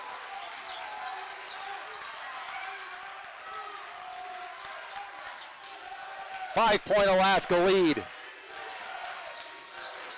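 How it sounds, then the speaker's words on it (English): Crowd at a college men's basketball game, Alaska versus Northwest Nazarene, keeps up a steady murmur of noise, with a commentator speaking briefly over it near the end. "Crowd making some noise."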